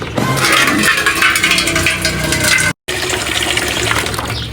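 Mineral water pours and splashes steadily and loudly, with a single brief gap partway through.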